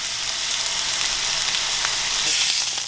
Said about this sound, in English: You want to take this beautiful hunk of meat and sear that.